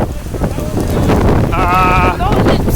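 Strong wind buffets an outdoor microphone at a World's Toughest Mudder 2014 obstacle race, a loud, continuous rumbling gust throughout, with a brief voice cutting through near the middle.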